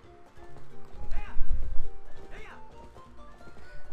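Horse hooves clip-clop at a gallop with a brief whinny in The Legend of Zelda: Twilight Princess HD, layered over game music and a muffled voice, fairly close and busy.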